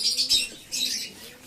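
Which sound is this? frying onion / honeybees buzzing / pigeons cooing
pigeons cooing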